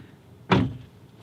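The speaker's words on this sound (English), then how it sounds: "I'm sitting in the driver's seat with the door open. Let's go ahead and shut that." The driver's door of a 2019 Volvo V60 swings shut once, a single solid thud with a short resonant tail against a quiet cabin background, close and fairly loud.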